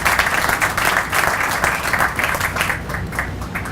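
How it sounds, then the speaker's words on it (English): Steady, loud audience applause at the AES Huntington Beach Energy Project celebration in 2017, a continuous dense patter of many hands with no talk over it. "please give a round of applause"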